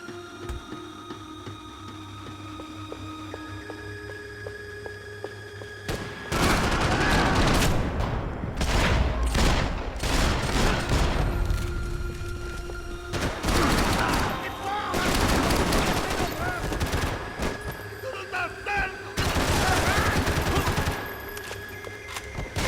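Repeated volleys of gunfire from above in the Max Payne 3 video game, loud bursts separated by quieter gaps over a steady background hum, with some speech.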